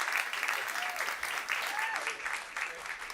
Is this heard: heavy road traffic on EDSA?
no